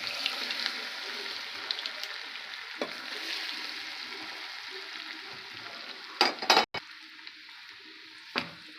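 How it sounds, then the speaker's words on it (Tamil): Hot oil tempering with dried chillies and curry leaves goes into gooseberry pickle: a steady, gentle frying sizzle, then a cluster of sharp clattering splashes and one last clack, with no speech. "இப்போ நம்ம வந்து சூடாகவே இந்த ஊறுகாயில் ஊற்றி வச்சிடலாம்."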